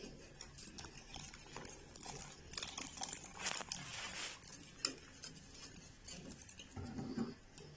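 A spoon stirring milk as it thickens in a pot for bread rasmalai, giving faint, irregular clinks and scrapes of metal against the pot at a low, close level with no speech.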